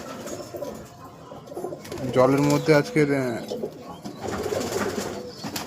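Pet pigeons coo in low, warbling bursts around feeding time, loudest in the middle and again near the end, with a person talking over them.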